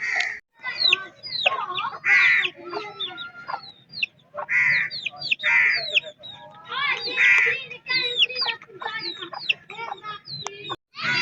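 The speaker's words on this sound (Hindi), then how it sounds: "ये देखेंगे इधर छोटे छोटे चूजे हैं, वो 3 चूजे हैं।" Chickens and three small chicks cluck and chirp in a Pakistani village yard, a busy close run of repeated clucks and peeping calls with brief pauses, faint background murmur.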